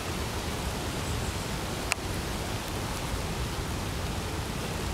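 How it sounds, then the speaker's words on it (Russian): Steady rain falls outdoors in a garden, a dense, even hiss that fills the whole stretch with no talking, broken only by one sharp tap near the middle. "Я не могу камеру поднять, потому что дождь идет"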